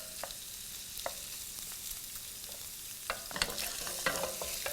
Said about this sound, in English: shrimp is in. We're going to raise the heat to high.